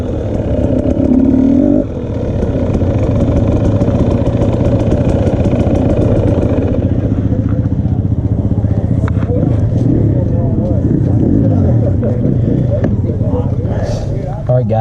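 A 2020 KTM 250 XC TPI two-stroke dirt bike ridden on a trail loop at Rivers Edge, its engine droning loud and steady throughout with rises and falls in revs, while a rider speaks over it.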